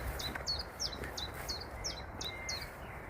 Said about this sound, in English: Chiff chaff.